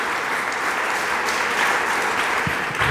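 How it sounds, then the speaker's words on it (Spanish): Spanish-speaking church congregation giving a round of applause during a sermon, dense steady clapping filling the whole stretch, loud and close with no talk over it. "Dele palmas al Señor"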